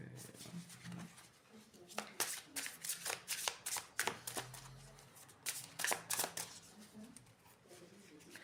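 Tarot cards shuffled and dealt onto a surface, a busy run of crisp riffling flicks and soft slaps that come in clustered bursts, close and fairly quiet, while a voice talks faintly in the background.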